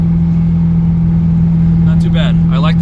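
A 1992 Ford Mustang GT fitted with SVE headers, an SVE X-pipe and Mac Pro dumps idles with a loud, steady, deep exhaust drone, and someone speaks briefly over it near the end.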